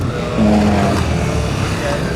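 A Honda CB300R motorcycle brakes hard on a course, with a loud engine and tire noise and a short squeal near the start, under a voice.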